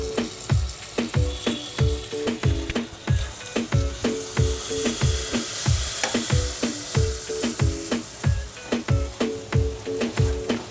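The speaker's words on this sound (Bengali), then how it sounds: "এখন এটা আমি 1 মিনিটের মতো লো ফ্লেমে ভাজা ভাজা করে নেব।" Soya chunks frying with soy sauce on low flame, a continuous sizzle broken by steady rhythmic stirring scrapes roughly twice a second, close and clear, without voices.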